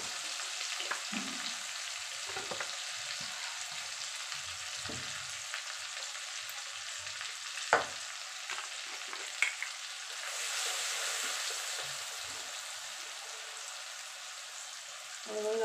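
Turmeric and spicy red chilli powder fry in oil for prawn masala, giving a continuous close sizzle like light rain. Occasional utensil clicks and stirring scrapes cut through, and the hiss swells briefly partway through.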